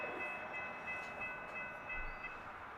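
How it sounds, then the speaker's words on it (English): A distant train horn sounds for road crossings as a southbound train approaches, a steady tone hanging over a low rumble of rail noise for nearly three seconds. "I can hear he's whistling for the crossings."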